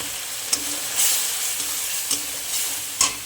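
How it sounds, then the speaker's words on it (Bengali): Spice masala being stir-fried in oil for a prawn dish, a continuous close sizzle broken by a few sharp scraping spatula strokes spaced about a second apart. "আর একটু কষাতে হবে। মশলাটা কষানো হয়ে গেছে, দেখেছো চার সাইডে তেল ছেড়ে দিয়েছে।"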